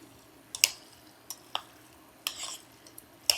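Pasta tossed with metal tongs in a pan of cheese sauce on a cooktop: scattered sharp clinks and scrapes of tongs against the pan over a quiet, wet stirring background.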